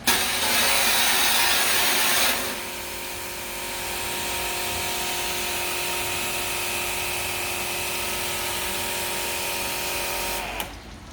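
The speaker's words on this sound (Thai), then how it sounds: "มาดูรีวิวการใช้งานของเครื่องฉีดน้ำเลยครับ" An STR 400-bar pressure washer runs with a loud, steady motor whine and hissing spray. The sound dips briefly after the first couple of seconds, then holds even until near the end, with no voices.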